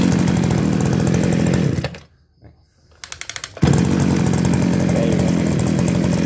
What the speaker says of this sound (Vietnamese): Khi mình buông dây giật nó cũng nổ nữa các bạn.